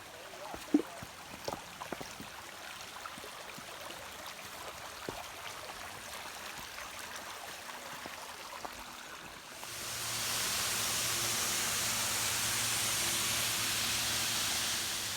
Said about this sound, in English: I'm now at the top of the waterfall, but in the end there is not much water that's falling